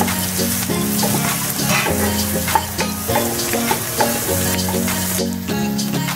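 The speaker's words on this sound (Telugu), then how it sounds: "ఈ బట్టని కూడా కొద్దిగా ఫ్రై అయిన తర్వాత ముందుగా ఫ్రై చేసి పెట్టుకున్న ఏదో సాస్ వేసి ఎగ్ నేను దీంట్లో వేసేసుకుంటున్నాను" Egg and sauce sizzle and fry steadily in a hot pan for sausage fried rice, a continuous close crackle with occasional stirring clinks and scrapes of a utensil, no talk.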